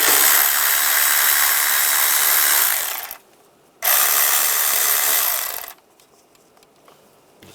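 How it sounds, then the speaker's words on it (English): A 10mm socket on a ratchet loosening worm-gear hose clamps on a 1996-2002 Toyota 4Runner engine bay, two long, loud, continuous ratcheting buzzes close up, separated by a short pause. "Using a 10mm socket, we're going to loosen up the worm clamps."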